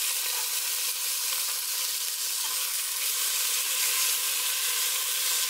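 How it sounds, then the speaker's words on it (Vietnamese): Garlic and tomato wedges fry in hot oil in a pan, giving a steady, close, even sizzling hiss that continues without a break and with no talking. "Sau khi tỏi của mình đã phi thơm và nó chuyển màu vàng như thế này thì mình sẽ cho tiếp hai quả cà chua"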